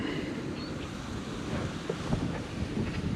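Wind buffets the microphone with a constant low rumble, mixed with open-water ambience at a deep fishing spot in Kharkiv, gusting slightly stronger toward the end.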